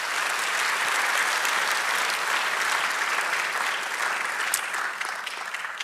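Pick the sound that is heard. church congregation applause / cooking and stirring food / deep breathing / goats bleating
church congregation applause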